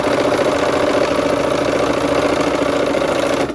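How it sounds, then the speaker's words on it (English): A sewing machine running steadily while stitching quilt rows, a continuous mechanical whir and rapid needle rhythm, loud and close without pause until it stops at the very end. "Let's go ahead and sew."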